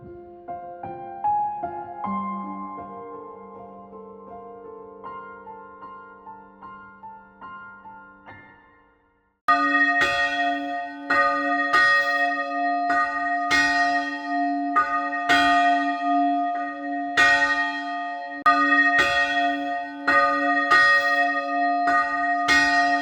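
Church bell ringing in a monastery bell tower in Maramures, Romania: loud, close, resonant strikes, first a slow decaying series, then a denser repeated clanging with long ringing overtones.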